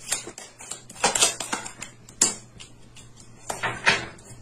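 Tarot cards shuffled and dealt onto a table, giving a run of soft, irregular papery flicks and taps with several sharper slaps as cards land, fairly close and without voices.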